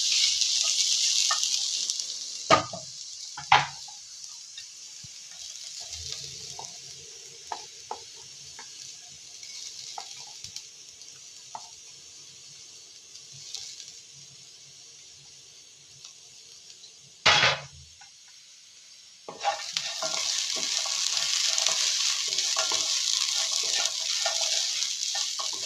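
Grated coconut roasting in ghee in a pan over a low gas flame, with a soft, steady sizzle interrupted by a few sharp scrapes and clinks of a stirring spoon against the pan.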